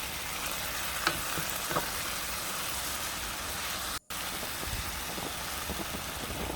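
Beef and lotus root stirred in a hot pan, a steady close sizzle of frying with a few soft scrapes of the spatula and a brief cut to silence midway.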